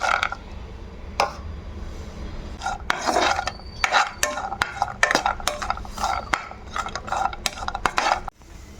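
Cashews and raisins roasting in ghee in a pan, heard as repeated sharp scrapes and clinks of a spoon stirring against the metal pan, irregular and close, over a low background hum.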